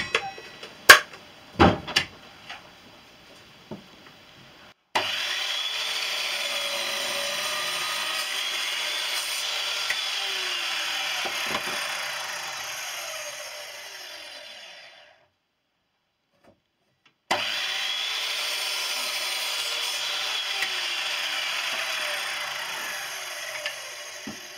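Evolution R210CMS compound mitre saw with a composite blade cutting wood in two passes: a few knocks and clicks, then a loud steady motor whine with the cut for about ten seconds, a brief gap, and a second sustained run.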